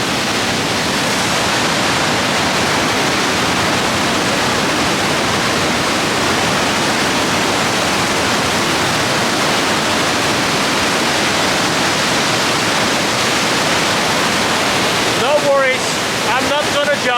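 A big waterfall in Norway roaring with rushing water, a loud, unbroken broadband wash that fills the whole stretch before a brief change at the end.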